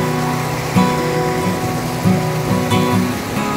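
Fast-flowing water pours through a running-water carp pond in Bogor at night after afternoon rain, a steady loud splashing rush with low tonal hum and a few heavier surges.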